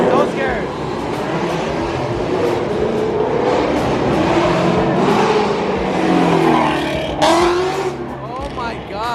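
Ford Mustangs at a car meet drive past close and loud, their engines roaring and revving in a continuous dense wash. Excited voices talk over the noise throughout.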